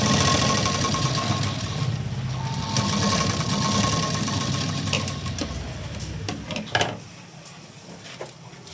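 A sewing machine runs steadily up close while stitching the edge of a sleeve lining, then slows into a few separate clunks and stops near the end.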